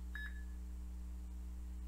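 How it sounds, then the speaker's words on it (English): Two quick high electronic beeps from a lie detector signalling a truthful answer, sounding in the first half-second over a steady low mains hum, then only the hum remains. "that beep means the green that means I'm telling the truth"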